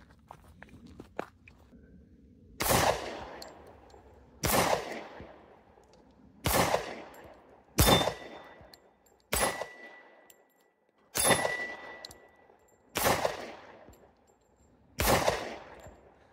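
Kimber Ultra Carry II pistol firing with Wilson Combat magazines, eight loud, sharp reports spaced a second or two apart, each with a decaying echo, plus faint handling clicks before the first shot.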